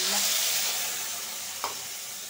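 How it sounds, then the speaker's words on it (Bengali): Ground spices dropped into hot oil in a thin, fast-heating karahi for a dried fish curry give off a steady close sizzling hiss, with one brief sharp tick partway through. "তেল দিয়ে দিছি, তেল গরম হয়ে গেছে। এখন এই যে মশলাটা দিয়ে দিই।"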